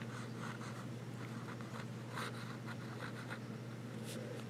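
A vintage Parker 21 fountain pen with a medium hooded steel nib scratches softly across paper in short strokes, faint and close against a steady low hum.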